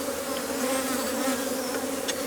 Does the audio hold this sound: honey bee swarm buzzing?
yes